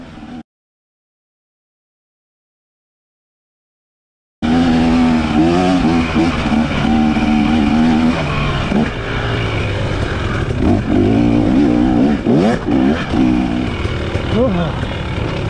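Off-road motorcycles race up a hill at Crabbe Mountain, with a loud, revving two-stroke-style engine snarl rising and falling close by after a few seconds of silence, and a voice talking over it.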